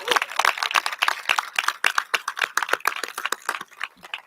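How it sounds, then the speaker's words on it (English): An audience at an official announcement in New Orleans breaks into loud, continuous applause, a dense patter of many hands clapping close by for several seconds with no one speaking. "That is worth a round of applause."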